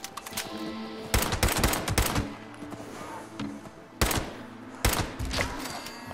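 Gunfire in the video game Fallout 76 as a player shoots a two-headed brahmin: sharp bursts of rapid shots in clusters, loud and close, separated by short gaps with game ambience.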